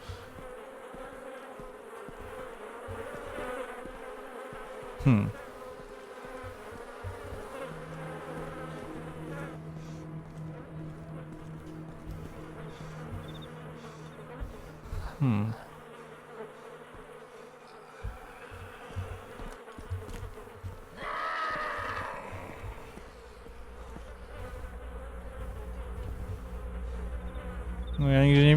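Flies buzz persistently in the video game DayZ with a droning hum that rises and fades, accompanied by a few sharp thuds and a brief murmur from a voice.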